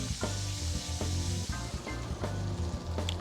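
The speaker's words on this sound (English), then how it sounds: "So each end, 1 minute, so you get a good sear all the way around." A beef fillet sears in butter in a hot pan for beef Wellington, with a constant hissing sizzle running beneath rhythmic background music.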